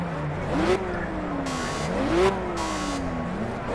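In the Project Cars racing game, an AMG Mercedes A45 road car in the C1 class drones along with a loud, steady engine whine that climbs and drops through repeated gear changes, with a tire squeal here and there.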